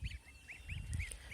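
A domestic goose gives a quick run of short, nasal honks, several calls in about a second, fairly faint and close, with no talk.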